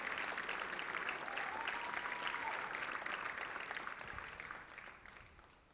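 A concert crowd at the + DE ZIK 2017 show gives a performer loud, continuous applause that holds steady and then gradually fades toward the end.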